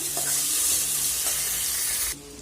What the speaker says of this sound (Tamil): நல்லா இந்த தக்காளியும் நல்லா வதங்கட்டும்